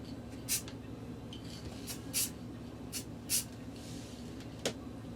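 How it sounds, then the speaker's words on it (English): Short, sharp hisses of a spray paint can burst out about five times, separated by quiet pauses over a faint background hum. "When spray painting, using a well-ventilated area."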